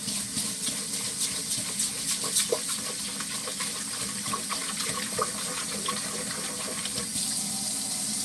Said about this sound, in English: I pour my rice in a pressure cooker bowl and I wash it